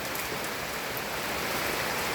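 Continuous rain falling during flooding in Senbag, Noakhali, Bangladesh, a steady broadband hiss close by and even in level throughout, with no voices.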